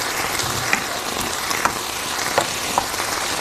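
Minced garlic frying in a pan for an Ethiopian home-style chicken tibs dish, a steady close sizzle with occasional small crackles and pops, no voices.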